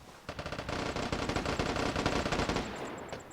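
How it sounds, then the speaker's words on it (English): Rapid bursts of gunfire in the game Vigor, dense automatic shots rattling continuously and loudly, with a few faint high pings near the end. "And then I hear gunshots."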